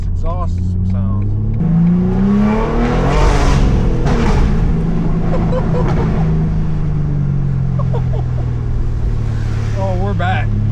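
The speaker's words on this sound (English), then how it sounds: "Man, I forgot how good this exhaust system sounds." Heavily modified BMW M4 G82 exhaust revs loudly nearby, several rising and falling vroom sweeps over a throaty idle, with rain outdoors.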